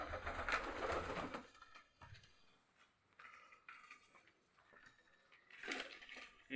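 Pigeons in a home pigeon loft holding Lakha, red Lakha, local and Beauty Homer pigeons, giving soft scattered coos amid rustling and clattering noises, fairly faint and without talk.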